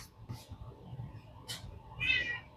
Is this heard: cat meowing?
yes